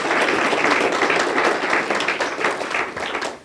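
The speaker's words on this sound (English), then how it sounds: "join me in giving a round of applause" Audience applause for the candidates at an NAACP candidate forum, a steady wash of many hands clapping at fairly close range, sustained throughout without a break.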